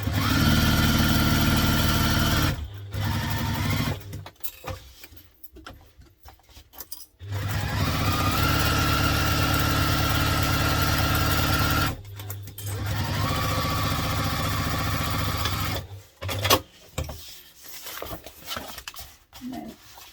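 A sewing machine stitches vinyl for a laptop briefcase at a construction-length stitch, running in long steady whirring bursts with a quick rattling pulse. Several runs are separated by short pauses and light handling noises, heard close up.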